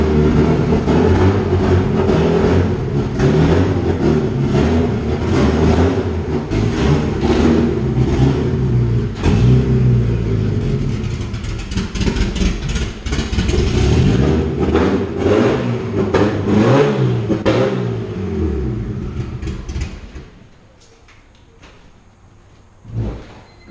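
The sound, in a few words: Fast and Furious Honda Civic car engine revving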